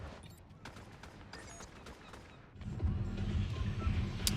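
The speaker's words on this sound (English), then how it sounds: "Oh, it was the Mega Blaster. Yes. So it's the Mega Man. It's the arm cannon." Mega Blaster arm cannon shots in Fortnite, a few sharp blasts early over quiet game ambience, then a dense, loud stretch of rumbling weapon fire and impacts near the end.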